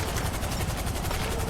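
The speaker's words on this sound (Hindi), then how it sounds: "कि हेलीकॉप्टर की आवाज कहां से आ रही है?" A helicopter in the GTA 5 game gives a loud, continuous rotor thumping with a rapid, even pulse throughout, close and without talk.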